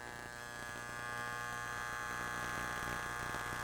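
Wahl electric hair clipper running after its power screw is turned clockwise, giving a steady, close, continuous buzzing hum that swells slightly after the first second.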